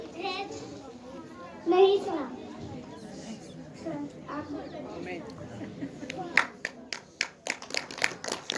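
A church congregation breaking into hand claps after talking and children's voices, the claps coming as a series of sharp, fairly close bursts in the final seconds.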